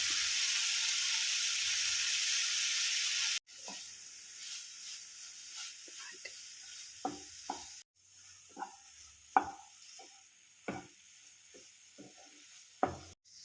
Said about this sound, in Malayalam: ഇനി അരിഞ്ഞു വെച്ച ചപ്പാത്തി ഇതിലേക്ക് ഇട്ട് കൊടുക്കാം